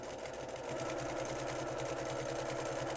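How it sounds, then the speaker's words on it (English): Sewing machine fitted with a walking foot stitches a straight quarter-inch seam through fleece, giving a steady, close, fast mechanical whir with an even rhythmic chatter throughout. "let's try to sew this"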